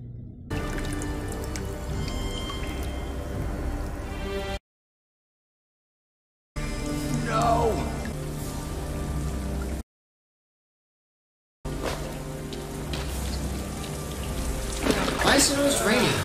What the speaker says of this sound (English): It doesn't rain this much in New York.